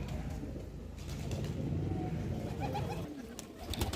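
Pigeons at a pigeon sale in Lucknow, soft cooing amid a dense, steady background din from a crowded market, close and continuous.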